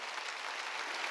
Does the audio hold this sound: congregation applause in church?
yes